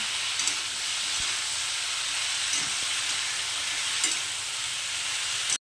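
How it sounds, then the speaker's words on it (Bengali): Potato and spices with a pinch of turmeric sizzle steadily in a pan alongside ridge gourd, an even frying hiss with a few faint utensil taps before cutting off abruptly. "এবার এই আলু আর মশলাটা আমি আর একটু ভালো করে ভেজে নেব"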